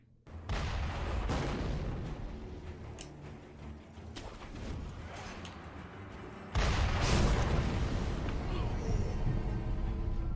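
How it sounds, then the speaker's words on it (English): Mortar crew firing artillery in a video game: repeated booming blasts and heavy rumble, with a louder burst of explosions near the end, under talking. "Fucking mortar crew."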